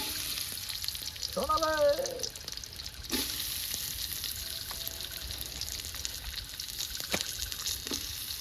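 Onions frying in oil in a wok for a meat curry, cooked outdoors in a village, giving a steady sizzle with occasional stirring scrapes, a brief voice and a few background sounds over the hiss.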